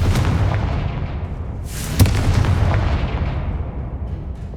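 A Confringo blasting spell bursts in Hogwarts Legacy with a sharp whoosh and crack, followed by a lingering rumbling boom.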